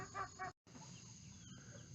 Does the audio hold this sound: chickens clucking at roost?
yes